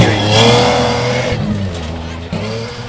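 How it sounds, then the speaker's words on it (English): A BMW V12 rally car engine revs loudly and close at the Catlins Rally, pitch climbing then dropping and surging again, with a voice talking over it. "Here we have the V12 BMW."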